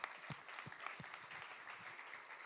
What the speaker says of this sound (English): please join me in a round of applause for our panelists